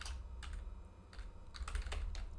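Typing code on a computer keyboard, quiet close-up key clicks in short irregular bursts of a few strokes at a time.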